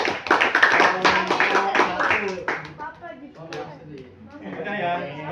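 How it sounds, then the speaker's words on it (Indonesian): Schoolchildren in a classroom clap for a presenting group, a loud burst of claps and taps for the first few seconds that thins out as voices and chatter take over. "Oke, tepuk tangan dong untuk"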